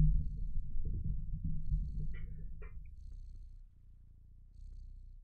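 A cat purrs in the video game Stray, a steady low rumbling purr close up, with a couple of brief higher chirps partway through and no talking.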